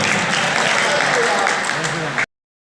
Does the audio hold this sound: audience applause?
yes